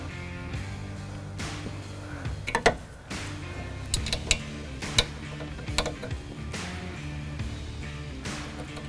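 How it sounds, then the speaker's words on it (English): An Allen wrench tightens an LED light bar onto its mounting brackets on a 2023 Ford Super Duty, giving small metallic clicks and ratcheting ticks at an uneven pace, close and quiet, with no talking. "Now we can use the included Allen wrench here to tighten the bar to our brackets."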